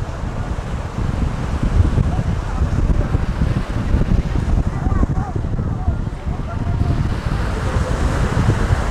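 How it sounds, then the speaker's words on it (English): Strong wind buffeting a microphone on the coast near Amber Cove in the Dominican Republic, a steady low roar with gusts and possible surf beneath, loud and continuous throughout. "Very windy."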